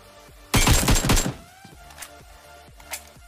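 A burst of rapid gunfire rings out in a mobile battle royale game, a loud close volley lasting under a second, followed by fainter scattered shots and clicks.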